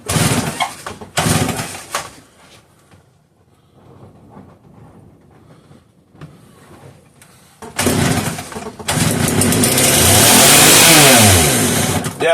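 A busted Homelite 330 chainsaw pulled from a junkyard scrap hopper fires in short bursts, goes quiet, then revs loud and high and holds at full throttle to the end.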